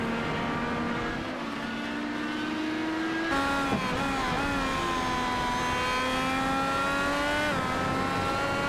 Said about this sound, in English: here we're going to take a ride on board with David McCourt on his fast lap in just a moment